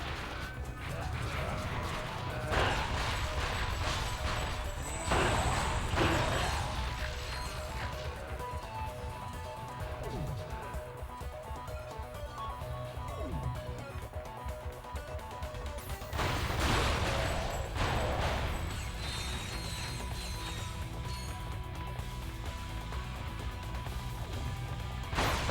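Loud explosions from the video game Ratchet: Deadlocked burst repeatedly over a dense game soundtrack, with the heaviest blasts landing near the start, around the middle and again later on.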